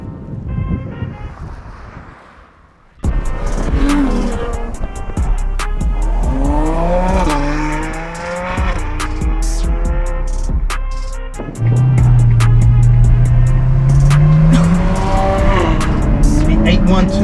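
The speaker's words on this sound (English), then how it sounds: "Hear that wail from the V12 naturally aspirated." A high-revving Ferrari 812 naturally aspirated V12 wails loudly as the car accelerates, pitch rising and falling through gear changes, with wind rush and road noise.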